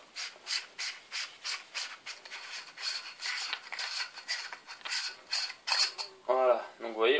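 Threads grind as a Fenix flashlight body is unscrewed by hand, a series of short rhythmic rubbing scrapes, quiet and close, followed by someone speaking.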